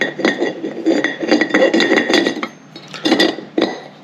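A Cooper S brake disc on a classic Mini slides down over four wheel studs, producing a run of bright metallic clinks and rattles, close and fairly loud, with a short pause before a few final taps.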